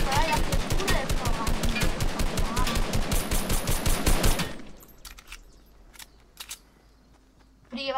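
Rapid automatic gunfire from a video game, a fast, steady run of loud, sharp shots for several seconds that abruptly stops. A few scattered clicks and faint sounds follow in near quiet.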